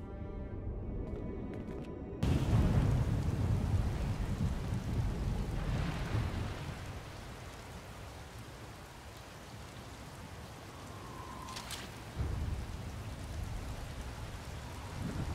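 A thunderstorm in Star Wars: The Old Republic, steady rain hissing on surfaces with rumbling thunder and a brief crack partway through, continuous and fairly close throughout.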